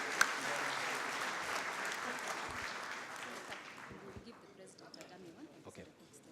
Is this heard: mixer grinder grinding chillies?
no